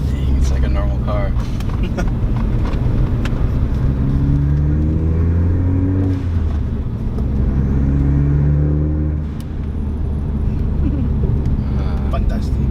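A Ford Focus ST with its sound symposer removed runs with a steady low engine drone and rising, falling revs inside the cabin, while people talk over it.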